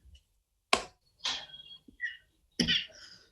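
A few separate coughs, sharp and close, spaced out with short quiet gaps between them.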